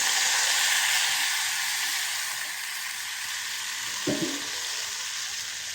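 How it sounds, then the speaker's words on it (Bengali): Loud, steady sizzling of spice paste frying in a hot pan with a little water added, with a brief scrape of stirring near the end. "এখন এর মধ্যে আমি দিয়ে দেবো একটু পানি মশলাটা কষানোর জন্য"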